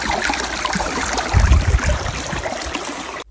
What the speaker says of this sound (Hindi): ये जो पानी का आवाज़ है ना